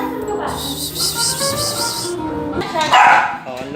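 A dog gives short barks and yips close by, mixed in with people chatting and laughing over it.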